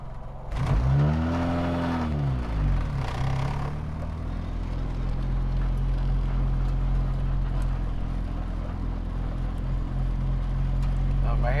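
A 1999 Honda Civic Si engine hums steadily from inside the cabin, with a low continuous rumble and a rising whir early on as it pulls away.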